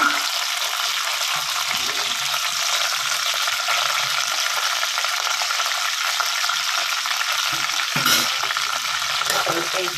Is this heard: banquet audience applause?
no